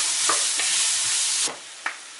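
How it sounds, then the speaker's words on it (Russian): Onion frying in a pan, a dense bright sizzle with stirring scrapes that drops abruptly quieter partway through, followed by one short scrape. "Лучок нужно будет обжарить."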